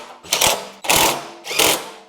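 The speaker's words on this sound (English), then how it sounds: "On this side here, I'm gonna put these 2 bolts back in." A hand ratchet tightens bolts on a snowblower panel: three quick, loud bursts of rapid clicking, each lasting about half a second, close up with short pauses between.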